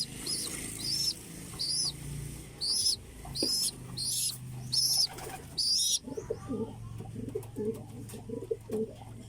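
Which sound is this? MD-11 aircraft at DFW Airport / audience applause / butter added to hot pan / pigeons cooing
pigeons cooing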